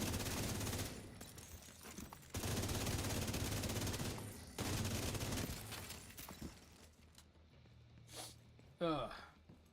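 Light machine gun fire in the video game The Division 2 rips out in three long, dense, close bursts, each lasting about two seconds, with a short vocal sound near the end.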